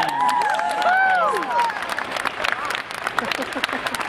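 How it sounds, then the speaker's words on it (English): An audience at a Paula Abdul meet-and-greet applauds and cheers for the fans, dense clapping rising over the crowd with a few whistles and shouts early on, then settling into steady scattered claps. "Round of applause for the fans."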